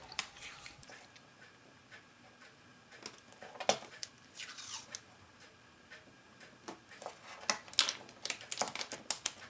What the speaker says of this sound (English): Now we're going to add some washi tape right here at the edge of our card.